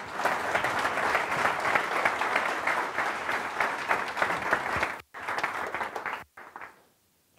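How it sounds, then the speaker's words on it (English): Warm audience applause at a Chicago tech event welcoming a speaker to the stage: sustained dense clapping from a crowd of around 250 that cuts off, resumes briefly, then fades to quiet. "I hope you can give a warm Chicago welcome to my friend William Mougayar."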